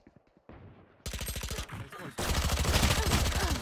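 Rapid SMG gunfire in the video game Valorant rattles in quick bursts, growing louder into a dense sustained spray near the end.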